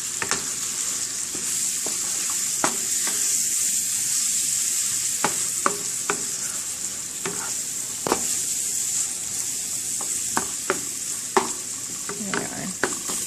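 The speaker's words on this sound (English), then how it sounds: "I'm going to start to flip the beef over" Ground beef sizzles steadily in a skillet, a continuous hiss broken by sharp scraping knocks as the meat is flipped and broken apart, close and fairly loud with no talking.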